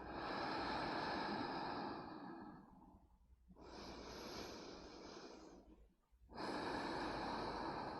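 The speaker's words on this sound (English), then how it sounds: "Deep breath in and out." Slow, deep yoga breathing in and out, close and audible: several long airy inhales and exhales separated by short pauses, with no talking.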